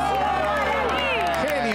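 A studio audience cheers and applauds a singer doing an impression at a televised talent contest, a loud, continuous wash of crowd noise with shouts riding on top throughout the short burst.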